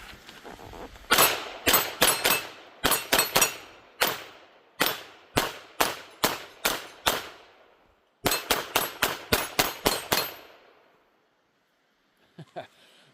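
Taurus TX22 .22 pistol firing Winchester Expert hollow point rounds: about twenty-two sharp, close shots in quick irregular strings with brief pauses, then silence and a couple of faint clicks at the end.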